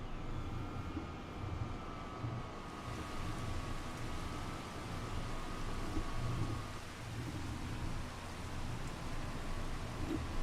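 Rain and thunder in the farming video game Farming Simulator 25: steady rainfall hisses throughout, with rolling thunder rumbling low and continuous beneath it and no talk.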